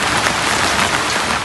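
Steady, dense rain pours down over a flooded village beside the Muhuri River in Bangladesh, a continuous close hiss of drops striking surfaces with no voices.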